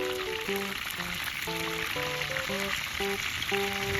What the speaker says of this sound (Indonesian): langsung saja saya masukkan burung ruak-ruak ini di atas wajan legend ini